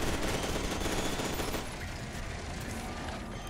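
Fully automatic weapon fire in the shooter game F.E.A.R. 2, a dense, continuous rattle of rapid shots, loud and close, easing slightly in the second half but never stopping.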